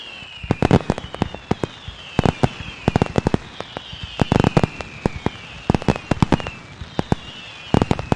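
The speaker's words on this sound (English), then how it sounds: "Let's get some road fireworks for the Rejects." Fireworks burst in a baseball video game for the road team, a series of sharp crackling pops coming in clustered volleys over about eight seconds, with whistling rising tones between bursts; loud and clear with no talking.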